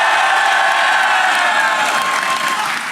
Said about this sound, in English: If you think I had the best team, make some noise.